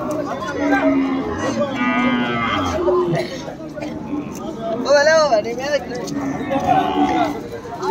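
Cows low repeatedly at a busy cattle market in Kodada, several loud moos rising over constant crowd chatter and people talking nearby.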